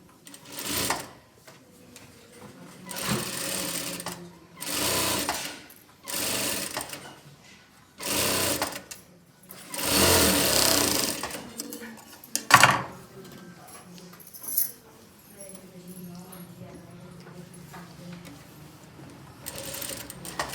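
A sewing machine stitches blouse fabric in short bursts, each a loud whirring run of a second or two separated by pauses, with a few clicks and handling knocks between runs and quieter stitching toward the end.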